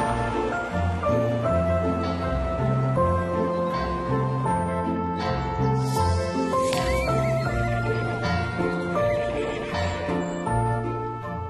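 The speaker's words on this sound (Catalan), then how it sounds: "Avui hi ha fira de bestiar i la seva neta l'ajudarà amb els cavalls" Horses at a livestock fair whinny and neigh repeatedly, close and loud, over a dense layer of other animal calls, hooves and crowd bustle that continues without a break.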